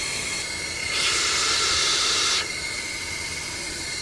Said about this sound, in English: I'm gonna send some air back through here again as like a final dry out